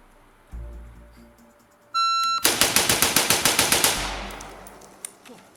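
Rapid-fire bursts from a PSA 16-inch classic M4 rifle upper: a loud string of about a dozen sharp, evenly spaced shots after a short beep, with one more lone shot a second later.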